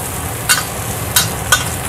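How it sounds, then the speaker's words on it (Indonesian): Chilies sautéing in a pan give a steady soft sizzle, broken by a few brief scraping stirs close by. "Tumis sampai wangi dulu"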